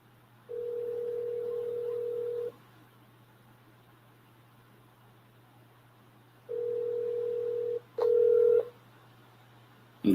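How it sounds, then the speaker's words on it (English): Telephone ringback on an outgoing call, with steady tones lasting about two seconds separated by pauses, sounding clearly over a constant low hum; a third tone is cut short by a click. "Okay, we got it ringing, but we're getting no answer."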